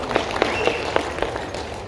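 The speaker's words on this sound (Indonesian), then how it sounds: "Tepuk tangan." Light, scattered applause at an evening HIPO gathering in Jogja, a few distinct handclaps heard close up, brief and thin rather than a full ovation.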